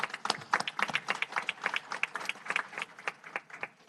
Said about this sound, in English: let's give an applause to our financial staff for that.